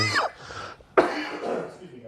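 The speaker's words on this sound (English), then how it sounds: "this cough has been killing me" Two sharp, close coughs, the second louder, followed by a rough breathy rasp.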